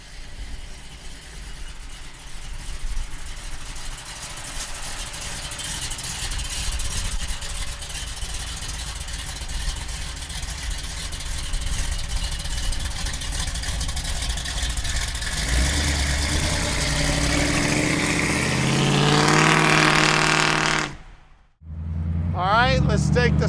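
A 1968 Chevrolet Camaro convertible with a supercharged engine idles with a steady rumble, then revs up louder and more forcefully near the end before briefly dropping away and picking up again.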